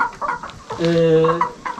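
Chickens cluck and squawk inside a coop built for about 500 hens with egg-laying nests and fans, a close, lively burst of overlapping calls with one sustained drawn-out cackle in the middle.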